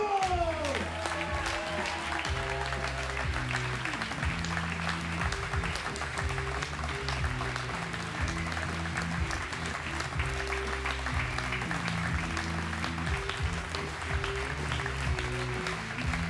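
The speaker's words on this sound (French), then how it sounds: "Un tonnerre d'applaudissements" An audience bursts into a long, dense round of applause and stays at full strength throughout while standing to welcome a windsurfing champion at an award ceremony.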